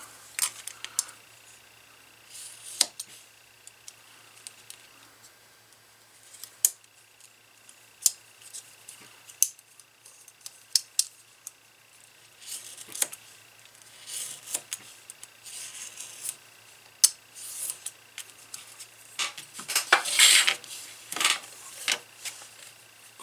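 A blade cuts the end of a heavy leather belt against a ruler in a quiet room. Faint scattered clicks and snips build into a louder cluster of crisp cutting sounds near the end.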